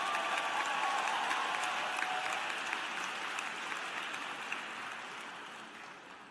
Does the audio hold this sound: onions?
no